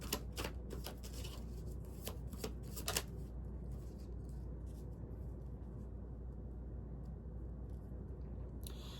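A deck of tarot cards is shuffled quietly, with a quick burst of crisp riffling flicks at the start and another at the end, over a steady low background hum.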